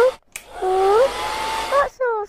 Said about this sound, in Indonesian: Aileen, kata Mama disuruh pakai hair dryer ngeringin rambutnya.